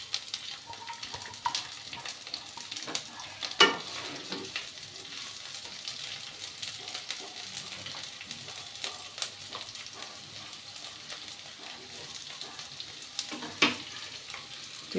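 Sliced onions frying in oil seasoned with black cumin make a soft, steady sizzle, with occasional louder crackles and utensil clicks and no voices.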